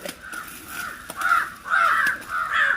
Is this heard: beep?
no